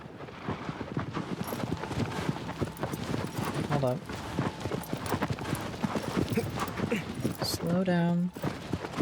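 Horse hooves clip-clop steadily across open ground in Shadow of the Colossus, a continuous close trotting rhythm with wind noise, while someone talks over it.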